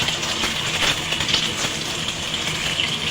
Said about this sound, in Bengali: ডিমটা এভাবে নাড়াচাড়া করে ভেজে নেব